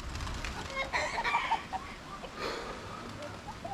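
Chickens in a farm coop clucking and squawking close by, a few overlapping calls in brief bursts that rise and fall over a soft background.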